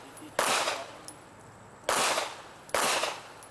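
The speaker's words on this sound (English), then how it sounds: "Now to the barricade and engage far to near, each with 2 rounds minimum." Three sharp shots ring out at an IDPA pistol shooting stage, each a loud crack with a brief echoing tail, spaced unevenly about a second apart, with no voices.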